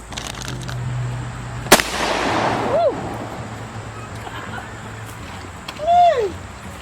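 A single sharp, loud report from a .38 handgun at an outdoor family shooting range, followed by a fading echo, with people talking nearby before and after the shot.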